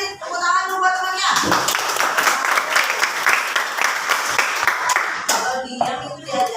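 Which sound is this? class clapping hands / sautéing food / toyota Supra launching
class clapping hands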